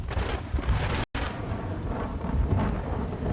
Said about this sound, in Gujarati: રાજુલાના વાવેરામાં મુશળધાર વરસાદ ખાબક્યો છે.